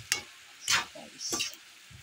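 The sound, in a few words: stirring adobong sitaw and alugbati frying in pan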